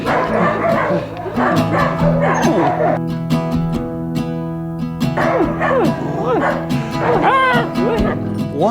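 A rescued dog, flea- and tick-ridden, yips and whimpers almost continuously in high, wavering cries with short barks mixed in, close and loud, while people talk faintly underneath.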